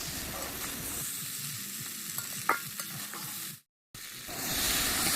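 Bhetki fish head with spices frying and being stirred in a pan, a steady close sizzle with scraping stir strokes and a few clinks, cutting out briefly near the end before resuming.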